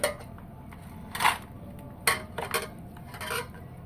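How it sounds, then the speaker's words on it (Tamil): Milk poured and food mixed in a dish for kittens: a few distinct clinks and scrapes of a utensil against the dish, spaced irregularly over a few seconds, close and moderately loud, without talk. "பால் ஊற்றி சாப்பாடு கொஞ்சம் போட போகிறேன்"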